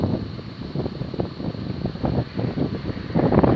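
Gusty wind buffeting outdoors near the wind turbines at Wróblik Królewski, rumbling low and rising in uneven surges, growing stronger near the end.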